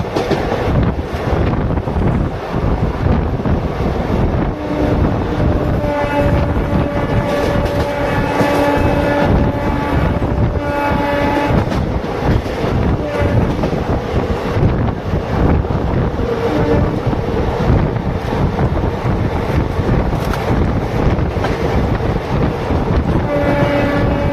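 Lucknow Intercity superfast train running through Shivpur station near Varanasi without stopping, a loud continuous rail rumble with wheel clatter, horn tones and heavy wind buffeting on the microphone, with no talking.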